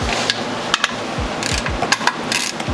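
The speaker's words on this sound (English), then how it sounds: "we wanna put our ratchet or wrench on it, and just get it snug, maybe a little crank on it" A ratchet snugging the oil drain plug on a Ford Escape during an oil change: a series of sharp, close metallic clicks and taps at irregular intervals over a steady low background rumble, with no talking.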